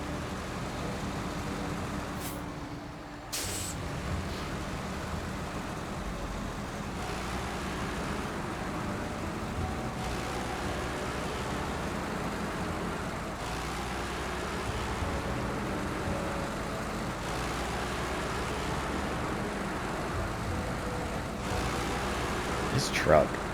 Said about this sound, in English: This truck, the freaking engine sound is awful.